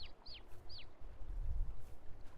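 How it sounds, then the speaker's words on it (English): Young chicks peep in a few quick, high chirps early on, with low, soft clucking and rustling from chickens in grass underneath, fairly quiet and close. "I have the little chicks in here so they don't get out."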